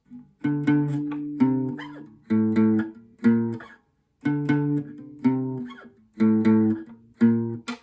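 A guitar picks out low bass notes for a looped part, played in clear rhythmic phrases of short plucked notes with brief gaps between groups, close and alone.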